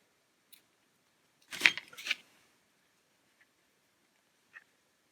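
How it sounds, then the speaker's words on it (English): Yarn is cut with scissors, giving a brief, close double snip in a quiet room, with a couple of faint ticks before and after. "Cut your yarn."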